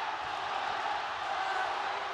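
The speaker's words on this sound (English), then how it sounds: "This crowd going bananas here in Tokyo." A dense arena crowd at a Tokyo MMA bout between Aung La N Sang and Brandon Vera roars steadily, a loud sustained wash of cheering and chanting with no break.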